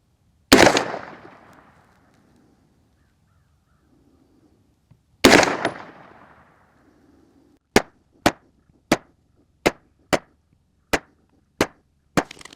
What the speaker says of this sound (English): So we've got our dot zeroed, and we're gonna shoot those 10-shot groups and see how it does.